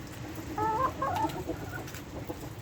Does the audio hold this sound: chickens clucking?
yes